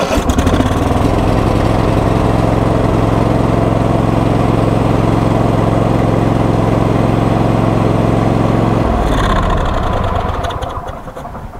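A Cub Cadet GT2 LX42 lawn tractor's small engine runs loud and steady close by, a constant idle drone that cuts off abruptly near the end, leaving a short fading rattle.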